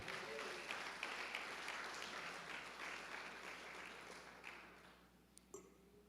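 A church congregation applauds together, a broad wash of clapping that holds steady and then slowly thins and fades toward the end, with a few isolated sharper sounds near the close.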